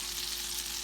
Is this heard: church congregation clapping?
no